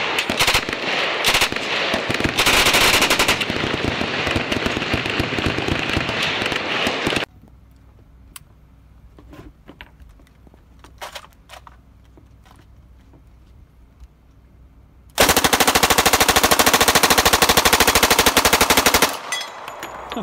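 A 1928 Thompson submachine gun fires loud full-auto bursts, a first long rattling string followed by a quieter pause with faint scattered sounds, then a second sustained burst near the end.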